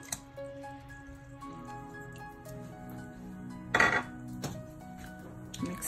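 Vinegar and baking soda stirred into water to make a soaking solution for cauliflower: quiet close clinks and scrapes of a utensil against a bowl, with soft watery swishes and one louder splashy burst midway.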